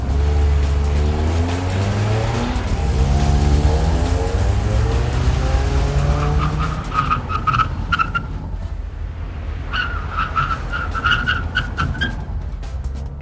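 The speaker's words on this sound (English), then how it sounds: "and the engine is just screaming." A 2008 Mitsubishi Lancer GTS engine revs hard and holds at a high, loud scream around 6,400 RPM, with a steady buzzing drone and sharp ticking bursts later on.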